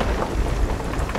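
A thunderstorm at sea in a sailing video game: heavy rain pelts down with deep rolling thunder rumbling underneath, loud and continuous, with no voices.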